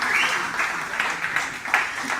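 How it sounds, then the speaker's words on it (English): An audience claps and cheers for a presenter at an Easter gathering, a dense burst of applause with scattered whoops, close and fairly loud. "All right, clap it up for Hannah."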